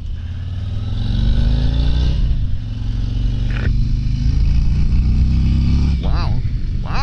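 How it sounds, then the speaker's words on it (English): A 2023 Harley-Davidson Street Glide Special with the 114 engine rumbles loudly and accelerates, its deep engine note rising through gear changes in the foreground. "that's actually a pretty good acceleration for a big bike like this with the 114"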